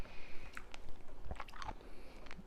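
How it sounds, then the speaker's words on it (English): Sour candy crunched and chewed close to the mouth, with a few sharp bites and moist squishy chewing scattered across a couple of seconds, no talking. "gonna crunch this down now"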